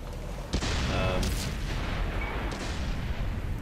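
A tank cannon shot in World of Tanks booms once near the start, followed by rumbling battle noise and a couple of softer distant reports, with brief talk mixed in.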